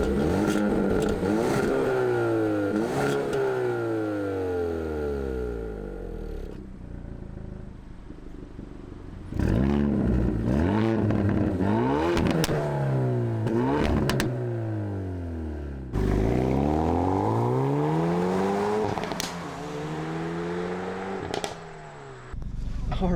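Hyundai Veloster N pulling away under hard acceleration, engine revving up through several gears with rising and falling pitch sweeps, loud and close from inside the car, with brief lifts between shifts.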